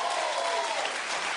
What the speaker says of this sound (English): You should probably keep clapping for Kathy Griffin